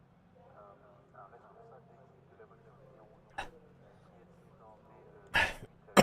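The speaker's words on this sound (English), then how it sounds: "Man, this cough is doing my head in." A man coughs several times, sharp and close, during an iRacing TCR touring car race at Spa, over a faint, steady engine drone from the sim.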